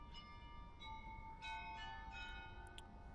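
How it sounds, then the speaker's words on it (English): Bells ring out in Kyiv, faint and distant, with sustained tonal chimes and a few brighter strikes overlapping, set against a low, steady rumbling background and no speech. "You guys hear the bells there, that chime."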